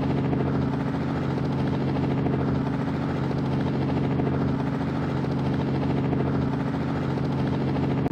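A helicopter in the mobile game Pilot Simulator hovers with a steady, loud rotor drone and engine hum that continues unbroken from start to finish.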